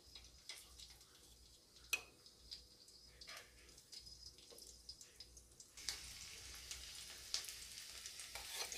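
Ginger pieces and garlic sizzle in hot oil for restaurant-style chicken 65, a quiet, steady crackle with scattered spatters and a louder burst of frying near the end, with no voices.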